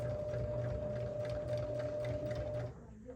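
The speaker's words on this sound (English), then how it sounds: "I'm going to stitch across the bottom" A sewing machine stitches across the bottom of a tote bag in one steady, close run with a constant motor whine, then stops abruptly near the end.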